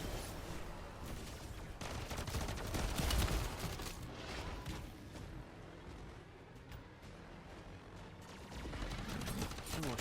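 Gunfire in MW3 Zombies comes as a fairly faint, dense fusillade of shots mixed with game rumble. It fades in the middle and swells again toward the end.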